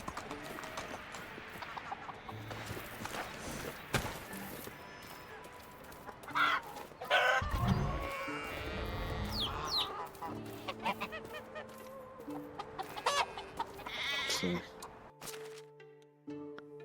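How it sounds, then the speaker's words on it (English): Aging rooster and chickens on a farm, with scattered clucks and a crow-like call mid-clip among clattering noises and a voice talking. "That rooster's getting on up there in age."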